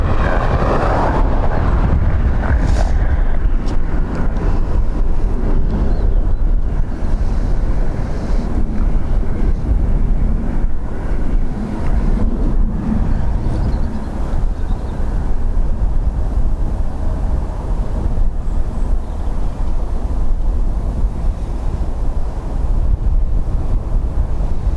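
Strong wind at Dublin Airport buffets the microphone with a loud, continuous low roar and rumble, steady throughout with no pauses or voices.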